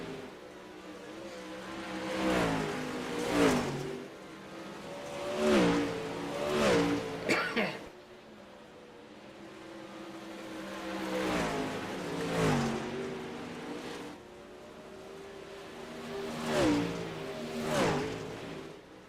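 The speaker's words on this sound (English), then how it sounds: "Sean Patrick trying to put the moves on the 10-car Logan" Dirt late model race cars roar around a dirt track, engines swelling and fading as cars pass in repeated waves, with a commentator talking over the racing.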